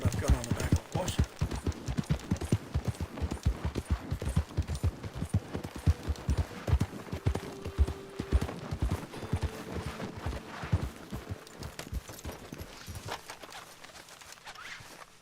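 Horse hooves clip-clop steadily at a walking pace in a video game, loud and close at first and gradually fading toward the end, with someone talking over them.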